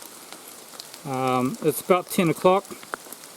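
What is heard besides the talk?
heavy rain pouring down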